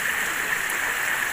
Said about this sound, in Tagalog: Bukal ng tubig.